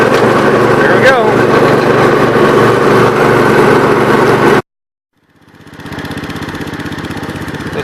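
A 1987 Gravely 12G lawn tractor mows with its worn front deck beside a road, its engine droning loud and steady, cutting out abruptly midway and then fading back in at a lower level.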